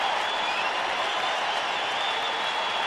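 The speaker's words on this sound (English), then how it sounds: "Diamondback crowd starting to get excited" Crowd at a Diamondbacks home baseball game against Atlanta cheering and applauding in a steady, dense roar that holds at full strength throughout, with no talk over it.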